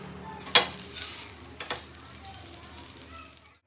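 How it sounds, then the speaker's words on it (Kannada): Rice flour and onion dosa sizzling on a hot pan, a steady soft frying hiss throughout with a sharp clatter near the start and a couple of light knocks, no talking. "ಇದು ದೋಸೆ ಬೇಯ್ತಾ ಇದೆ"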